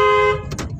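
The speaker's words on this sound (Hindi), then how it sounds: "लॉन्ग हॉर्न पुश करो क्योंकि यहां पे भी कार आ सकती है" A single loud car horn blast lasts about a third of a second, sounded by a learner driver on a narrow lane during a driving lesson, followed by quiet engine rumble.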